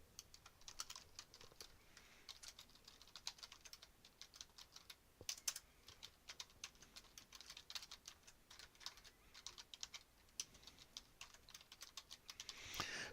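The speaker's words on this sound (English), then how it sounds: "So I'm just hitting the tab key to go from one to the next." Keys clack on a computer keyboard with repeated tab presses while working in Blender 2.79, a quiet, irregular run of light taps with short gaps and no voice.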